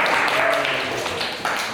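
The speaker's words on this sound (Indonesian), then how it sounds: "Tepuk tangan untuk kelompok 2" A short, steady wash of clapping from a classroom group applauding a student team at a mechanical engineering teaching session, continuous and fairly loud for under two seconds.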